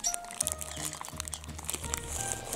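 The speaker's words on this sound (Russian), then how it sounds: "Пакетик." A plastic packet from a New Year mystery gift box crinkles and rustles continuously up close, with faint voices in the background.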